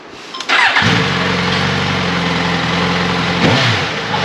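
Suzuki GSX S1000 GT motorcycle engine cranks and catches, then settles into a steady, close idle with a brief blip of revs near the end.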